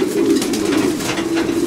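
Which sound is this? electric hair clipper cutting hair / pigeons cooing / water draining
pigeons cooing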